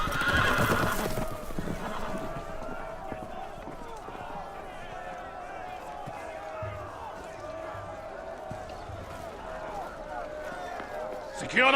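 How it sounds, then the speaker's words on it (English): In a Game of Thrones video game, horses whinny loudly and clatter off at a run as they break loose, with hoofbeats and clatter under excited voices shouting in the scene. "The horses! They're loose!"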